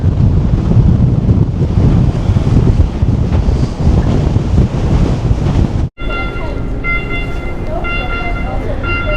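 Strong wind blows steadily across the microphone in the Arctic mountains of Norway, a loud continuous roaring buffet that cuts out abruptly and gives way to quieter gusting.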